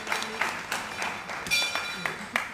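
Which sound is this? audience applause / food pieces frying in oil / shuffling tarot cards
audience applause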